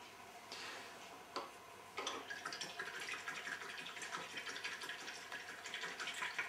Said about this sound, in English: Wash the brush